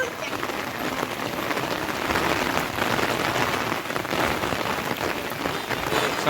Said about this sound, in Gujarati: પવન ને વરસાદ ને માપે માપે પવન છે.